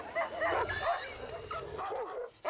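A dog whimpers and yelps in pain after a snake spits venom into its eyes, giving a run of high, wavering cries over a rough, noisy background.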